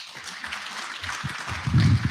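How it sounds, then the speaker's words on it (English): Audience applause at a trade exhibition in Africa: a steady, moderately faint patter of many hands clapping, swelling slightly toward the end of the short burst. "Please keep clapping."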